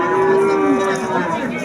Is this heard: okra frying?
no